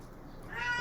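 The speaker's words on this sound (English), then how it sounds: "That's April, the cat." A cat lets out a single rising meow near the end, close and fairly clear over a quiet indoor background.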